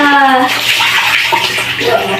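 Warm water pours and splashes steadily while a dog that is afraid of cold water is bathed, a continuous close wash of running water with a brief tonal voice at the start.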